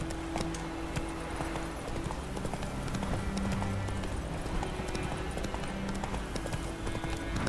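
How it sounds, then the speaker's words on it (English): Horse hooves clip-clopping at a steady trot in the video game Witcher 3: Wild Hunt, a continuous rhythmic beat under game ambience. "oh, look at this horse"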